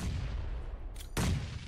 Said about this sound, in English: Non-stop grenades, bro.